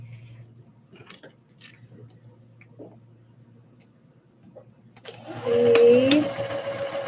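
A sewing machine set to a smaller stitch length runs steadily while sewing a Christmas dress. Quiet handling sounds come first, then it speeds up into a louder, close buzzing whir that continues to the end.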